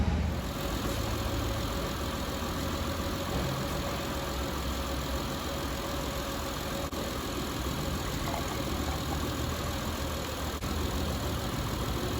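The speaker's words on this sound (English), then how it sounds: "let's go ahead and fire up the engine and get it up to normal operating temperature" Car engine running at a steady idle during a head gasket failure check, a continuous, even, close mechanical drone with no talk.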